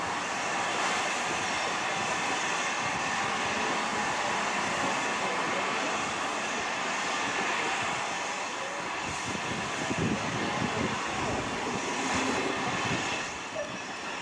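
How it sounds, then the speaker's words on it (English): A British steam locomotive pulls its train into Goathland station, heard from an overpass bridge as a broad, steady rumbling roar with hissing and clanking texture, loud and continuous throughout. "looking down on this train"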